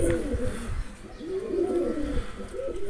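Domestic pigeons kept in a loft cooing close by, several overlapping soft throaty coos in repeated swelling phrases over a faint background hum, with no voices.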